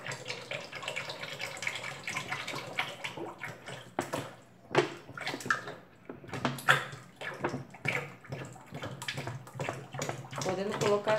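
Homemade anil soap liquid pours and splashes into a container in an irregular gurgling stream with sloshes and knocks, while a person talks over it.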